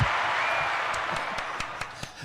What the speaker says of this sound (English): And another applause.